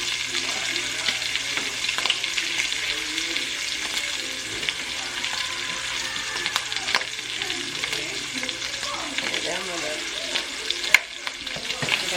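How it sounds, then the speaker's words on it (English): Bacon frying in avocado oil in a pan gives a continuous close sizzle and crackle with occasional stirring clatter, holding steady throughout with no voices. "Got a bacon going over here."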